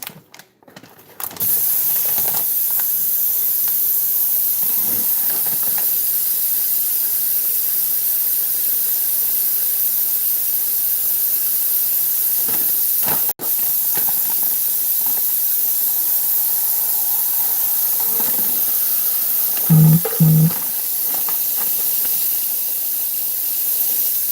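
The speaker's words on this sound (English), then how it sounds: "So I'm going to rinse these off." Shrimp being rinsed under a running kitchen tap, a steady broadband hiss of flowing water lasting throughout with small clinks and shifts as the shrimp are handled, fairly close and loud, with no talking.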